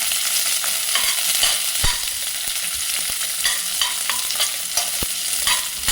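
Bay leaf, a small piece of cinnamon, cloves, cardamom and onion fry in hot oil for malai kofta, a dense, continuous sizzle with frequent clicks and scrapes of a spoon stirring the pan, close and loud.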